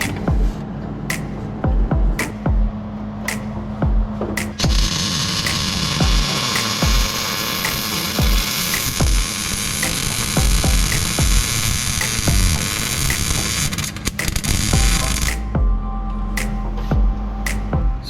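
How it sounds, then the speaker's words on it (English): Welder tacking a nut onto a car's brake pedal under the dash: a steady, buzzing, crackling arc runs for about ten seconds, framed by short clicks and hum before and after. "We're gonna go ahead and weld this back on there, but not totally."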